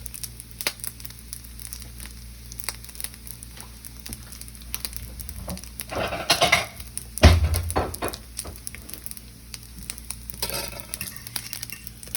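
Bacon frying in a pan at home, a steady close sizzle with occasional louder crackles and stirring scrapes midway, no voices.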